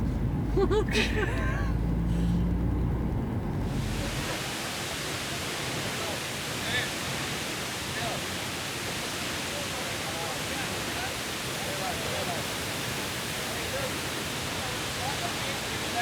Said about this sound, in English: This is the Fortuna Water Fall.